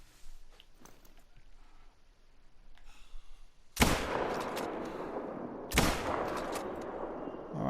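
Two loud, sharp rifle shots aimed at a mule deer crack about two seconds apart outdoors, each trailing off into a long rolling echo after quiet rustling.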